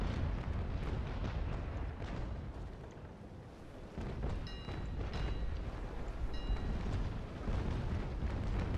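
Naval cannon fire in the age-of-sail game Naval Action, a continuous loud rumble of heavy booms and blasts rolling through a sea battle with no talking.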